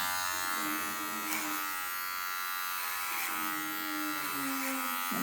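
An electric hair trimmer buzzes continuously during an at-home haircut around the ear, a steady close hum with slight pitch shifts as it moves through hair.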